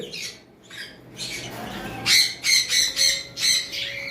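Pineapple and yellow-sided sun conure parrots give a run of loud, harsh squawks in quick bursts, with some quieter calls first and then about five strong close cries in a row, no talking.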